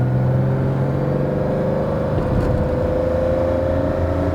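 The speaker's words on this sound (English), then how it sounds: "And the engine is pulling beautifully." Engine of a classic Lamborghini Countach under sympathetic restoration, heard from the seat while driving, a loud steady drone with a low throbbing tone that pulls evenly throughout, with no talking.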